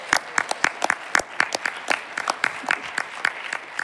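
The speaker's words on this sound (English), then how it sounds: "Can we get some applause for that?" Audience applause at a Games Done Quick charity speedrun marathon, a crowd clapping in a steady, moderately dense patter of distinct claps that carries on throughout.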